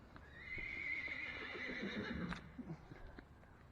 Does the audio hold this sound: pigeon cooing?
no